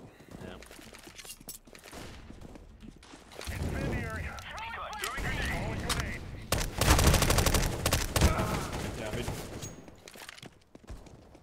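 Automatic gunfire in a Counter-Strike match on a playtest map, heard as rapid bursts that build to a loud, dense stretch in the middle, with players talking over much of it.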